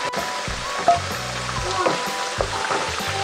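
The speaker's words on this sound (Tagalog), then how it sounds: "Ginagawa po natin to na piniprito muna yung ating patatas" Potato pieces frying in a pan of oil, a steady close sizzle and crackle with occasional clinks of a utensil against the pan.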